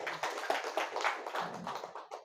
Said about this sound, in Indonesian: Oh, tepuk tangan dong buat beliau.